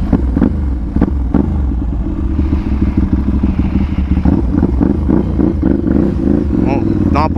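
Ducati 796 motorcycle fitted with a titanium exhaust, its engine rumbling loudly and close throughout with sharp revving bursts and clattering, while people talk over it.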